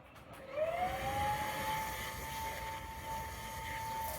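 A cordless vacuum cleaner running on carpet, a steady motor whine holding one rising tone that settles into a constant hum, close and continuous with no talk.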